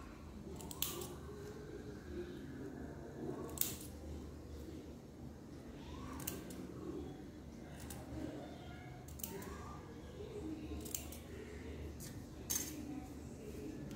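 Scissors snip small cuts into fabric beside a line of stitching at a tailoring table, about a dozen crisp metallic clips spaced irregularly and heard close and fairly quiet over a soft room hum.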